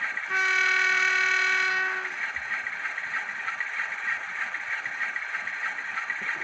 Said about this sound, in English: Function 4 is horn.